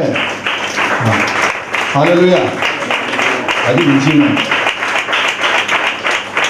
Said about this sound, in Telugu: బాగా కొడుతున్నారు చప్పట్లు